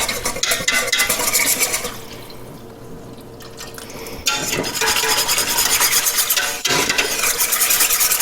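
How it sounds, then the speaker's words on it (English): A spoon stirs a thickening mac and cheese sauce in a pot, giving loud, close, rhythmic scraping and sloshing. The stirring eases into a quieter stretch midway, then resumes at full strength. "I'm just going to stir this pretty constantly for about 10 minutes"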